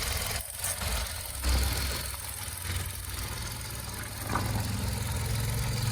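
A Kia Picanto's 3-cylinder 999cc engine idles with a steady, low, slightly uneven hum, heard close up with no speech.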